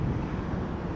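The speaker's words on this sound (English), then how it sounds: "Crazy, crazy windy." Strong night wind in South Beach buffets the microphone as a continuous low roar and rumble, with no voices.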